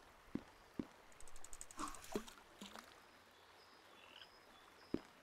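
A frog in the Pumpkin Panic video game gives a few short, sharp croaks spaced a second or more apart, faint and close, over a quiet outdoor ambience with no talking.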